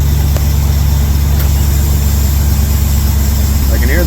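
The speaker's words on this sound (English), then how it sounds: "I can hear the pump." A 1982 Chevy K10 truck that had sat for years idles steadily with a plow pump running, a loud constant low rumble throughout, with a brief higher tone near the end.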